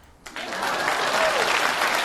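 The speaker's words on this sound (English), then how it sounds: "Please clap." Applause in response to a music reaction and review of a progressive metal track. A quiet start gives way to a sudden burst of steady clapping that sustains evenly to the end.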